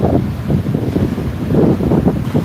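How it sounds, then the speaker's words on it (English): Ocean waves wash on a beach amid heavy wind buffeting against the microphone, a loud rumbling surge that rises and falls over a few seconds with no talking. "Oh, I love the waves."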